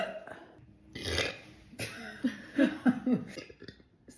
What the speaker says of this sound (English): I burped it 6 times.